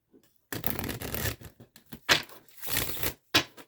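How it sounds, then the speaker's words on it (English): Tarot cards bridge-shuffled by hand, a close series of crisp riffling bursts with brief pauses between, heard alone without talk. "I do feel like I need to bridge shuffle these."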